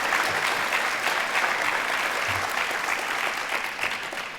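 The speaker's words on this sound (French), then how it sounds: "il faudra les applaudir très fort" An audience at a contest applauds loudly and continuously, a thick, even wall of clapping from many hands that fills the whole stretch without pause.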